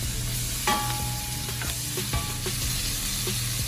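Vegetables caramelizing for smothered pork chops sizzle steadily in a pan, with a utensil scraping and clacking against it in a few stirring strokes.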